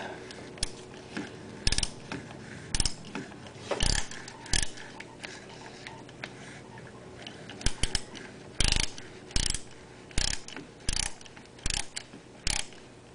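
A ratchet tightens the battery terminal bolt on a 1995 Honda Accord, producing repeated close bursts of rapid metallic clicking in uneven strokes, separated by short quiet pauses.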